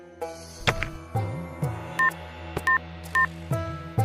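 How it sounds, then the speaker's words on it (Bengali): A telephone number is dialed in a police station: a series of distinct dual-tone keypad beeps, some short and some held, in an uneven rhythm over a low background hum, with no talking. "আমি ফোন করে জেনে নিচ্ছি ওরা কোথায় আছে।"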